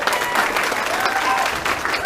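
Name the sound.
audience applause at a Christmas showcase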